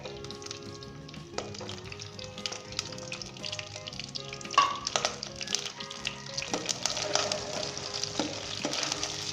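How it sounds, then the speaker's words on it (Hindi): Soft, continuous crackling sizzle of garlic frying in hot oil with occasional stirring scrapes, fairly quiet and unbroken by voices. "लहसुन को इस तरीके से आपने इसे ऑयल के अंदर भूनना है"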